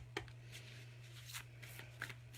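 Oracle cards shuffled by hand in a quiet room, a few soft papery riffles and brief rustling bursts over a steady low hum.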